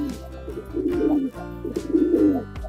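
A pigeon gives two rolling, throaty coos in close succession, clear and fairly close, with a short pause between the phrases.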